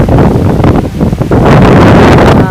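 Strong wind buffets the microphone by the sea, with waves and surf washing steadily underneath, loud and continuous throughout.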